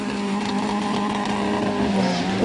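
An Opel Corsa rally car on a Carrick forestry stage, its engine holding a loud, steady buzzing drone close by with a slight rise in pitch and no pause throughout.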